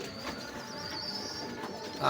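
A pair of domestic pigeons coos softly at close range, with low, rolling calls over a steady background hum that grows slightly louder at the very end.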